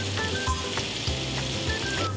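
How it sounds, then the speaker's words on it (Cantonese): Chicken wings pan-frying in hot oil over medium heat, crackling and sizzling close up with a few spatters and pops. "放入雞翼煎香兩面"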